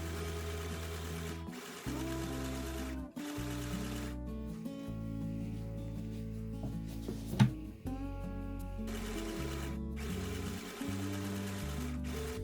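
A mini sewing machine stitches blue fabric strips for beginner patchwork, its steady motor whir running in bursts with short pauses between seams, close and clear with no talking.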